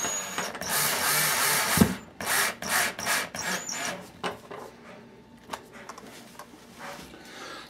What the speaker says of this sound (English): putting the screw in the hole, tightening her on down, and she's good to go